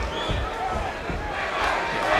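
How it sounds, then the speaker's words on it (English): A boxing arena crowd chants and roars during the last round of Miguel Cotto versus Yoshihiro Kamegai, a dense, rhythmic wash of voices filling the hall with a commentator talking over it. "the chants of the crowd"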